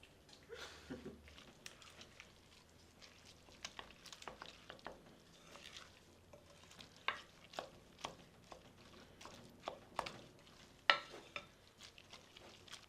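Dog biscuit batter of peanut butter, apple and egg being mixed in a bowl, giving a run of soft irregular stirring scrapes and light taps, close and fairly quiet, with no talk.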